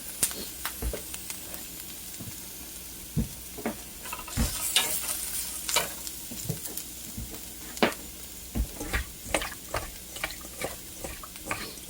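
Vegetables sweating in a pan for shrimp and grits, a low steady sizzle broken by frequent sharp clicks and taps of a utensil stirring. The taps come in irregular bursts, close by, with no voices.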